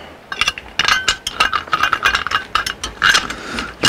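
Ratchet tightening screws on a Dometic furnace burner assembly, a quick run of sharp metallic clicks and clinks in uneven bursts, close and clear with no voices.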